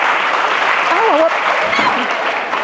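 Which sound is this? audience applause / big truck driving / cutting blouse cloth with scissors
audience applause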